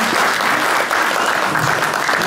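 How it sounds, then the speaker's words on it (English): An audience at a folk music Christmas party claps in steady, dense applause from nearby, continuing evenly for a couple of seconds. "Give her a clap."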